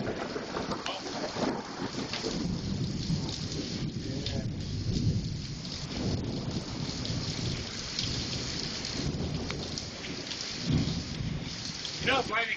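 Heavy thunderstorm with steady, dense rain pouring down throughout, thunder rumbling low underneath, and a brief voice near the end.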